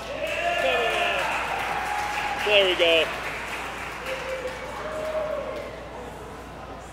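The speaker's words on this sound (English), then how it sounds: "Give yourselves a round of applause." Crowd applause at an outdoor parkour competition, a steady wash of clapping with voices talking and cheering over it, a brief remark from a nearby person in the middle.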